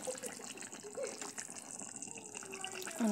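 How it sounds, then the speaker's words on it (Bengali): Potato curry (aloo dum) coming to a boil in a pot, a soft close bubbling and gurgling with a faint steady wash of liquid, quiet and without talking. "বলক এসে গেছে আলুর দমে।"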